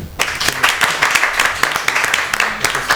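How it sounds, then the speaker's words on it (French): A crowd clapping steadily, a dense burst of applause from many hands, loud and close, with a brief pause at the start. "on applaudit s'il vous plaît"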